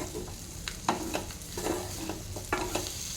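Black-eyed peas and chicken curry sizzle in a pan while a utensil stirs them, giving a constant frying hiss broken by repeated scraping and clinking strokes close by.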